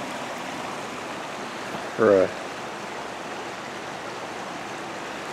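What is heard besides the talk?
river flowing beside a trail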